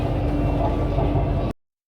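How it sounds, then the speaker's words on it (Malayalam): Steady low rumble and rattle of a Chennai Metro train carriage in motion, heard from inside the car as a continuous, fairly loud drone that cuts off abruptly near the end. "മെട്രോ കയറി ഗായ്സ്"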